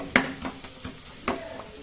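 Mackerel in masala frying and roasting in a pan, a low sizzle broken by several scraping stirs of a spatula against the metal, close and moderately loud.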